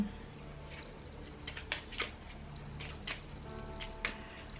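A deck of Lenormand cards is shuffled by hand for a Grand Tableau reading, giving soft close riffling and sliding with a few sharper flicks over several seconds and no one talking.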